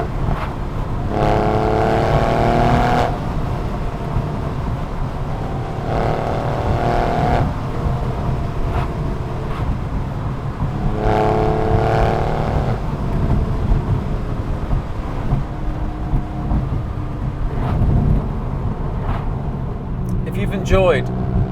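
Porsche 911 engine and exhaust, picked up by a microphone on the exhaust while driving, drones steadily and swells into several rising revs as the car accelerates through the gears, with a voice talking over part of it.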